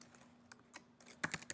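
Fingers type on a Mac computer keyboard while entering commands in Terminal, with sparse, light key clicks at first and then a quicker, louder burst of keystrokes at the end, close and with no speech.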